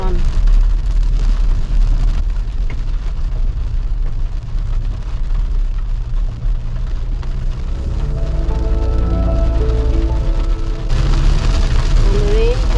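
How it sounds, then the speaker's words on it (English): Rain lashes against a car windscreen while driving up hairpin bends on a mountain road toward Munsiyari, a loud continuous patter over low road rumble, with a voice speaking briefly near the end. "And the rain has started again."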